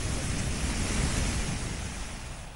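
A river in flood after heavy rain surges with a continuous loud roar of rushing, churning water, steady and broad throughout, with no voices.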